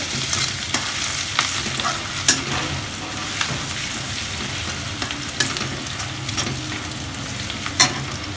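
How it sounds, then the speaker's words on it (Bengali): Ginger paste and spices fry in oil with a loud, close sizzle while a spatula scrapes and stirs in irregular clacks against the pan, several sharp knocks standing out along the way. "আবারও একটু ভালো করে মশলাটা মিশিয়ে নিচ্ছে, তেলের সাথে একটু হালকা ভাজা ভাজা করে নিচ্ছে"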